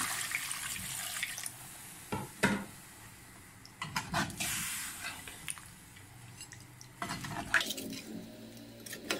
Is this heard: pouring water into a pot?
yes